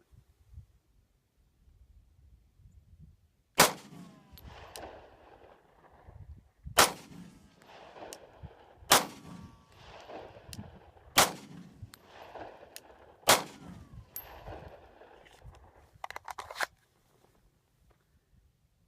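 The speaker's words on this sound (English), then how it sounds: "Alright, I recall dot number 1 was 5 shots. Ready, 5 shots." A Glock 19 Gen4 pistol fires five sharp, loud single shots during a dot drill, spaced a few seconds apart, each followed by brief handling clatter, then a quicker pair of shots near the end.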